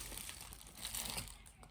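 Pre-cut fabric is handled up close, giving a soft, continuous crinkling and rustling texture for under two seconds, fairly quiet and without talk.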